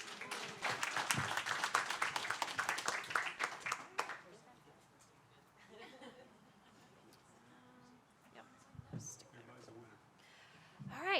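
An audience applauds prize winners and panelists at a town talk event. A burst of loud, dense clapping lasts about four seconds and then fades, leaving chuckles, scattered laughter and voices talking quietly.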